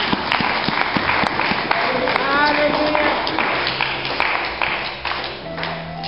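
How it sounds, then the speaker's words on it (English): A church congregation claps together in continuous, dense applause that stays fairly loud throughout, with voices and shouts mixed in among the clapping. "Give your clap offering to God."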